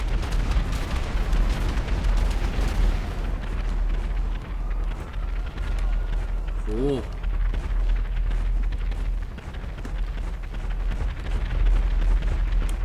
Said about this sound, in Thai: มันยิงมาจากไหนวะ